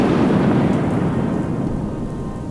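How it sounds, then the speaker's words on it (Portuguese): Thunderstorm with steady heavy rain and a deep rolling rumble of thunder, loud and continuous throughout, fading slightly toward the end, no voices. "Esta tarde a trovoada caiu pelas encostas do céu abaixo."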